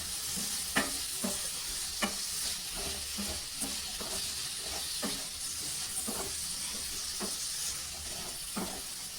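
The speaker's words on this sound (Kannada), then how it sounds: "ಈಗ ಇದನ್ನು ಕೂಡ ಒಂದು 2 ನಿಮಿಷ ಚೆನ್ನಾಗಿ ಎಣ್ಣೆಯಲ್ಲಿ ಫ್ರೈ ಮಾಡಬೇಕು." Eggplant frying softly in oil for vangibath, a low, even hiss with scattered sharp spatula taps and scrapes at irregular intervals throughout.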